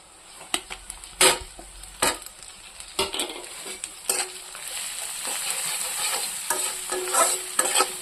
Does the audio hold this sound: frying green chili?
yes